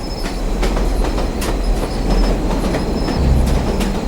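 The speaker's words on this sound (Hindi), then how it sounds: "उसके उतरते ही ट्रेन भी चल पड़ी।" A train pulls away from a station, its wheels clattering steadily over the rails with rumbling carriages and faint squeals, loud and continuous throughout with no voices.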